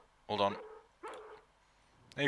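A dog barks in the PC video game Harvester, giving three separate, loud, close barks with short pauses between them.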